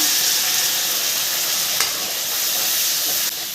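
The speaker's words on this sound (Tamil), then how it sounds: "பூண்டு இஞ்சும் நல்லா ஃப்ரை ஆகிக்கிட்டு இருக்கு" Garlic and ginger frying in oil with freshly ground tomato for prawn Manchurian, a loud steady sizzle throughout with a faint stir or scrape midway.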